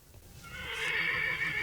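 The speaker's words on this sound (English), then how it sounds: "It sounds like a neighing horse." One drawn-out horse whinny swells in and holds for over a second, loud and fairly close, with no talk over it.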